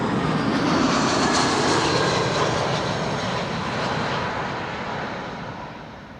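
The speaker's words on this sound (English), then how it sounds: "Here we go, BA, arriving from London Heathrow." A British Airways plane arriving from London Heathrow at Amsterdam Schiphol Airport passes with a loud, broad engine roar that fades slightly over six seconds, with no talk.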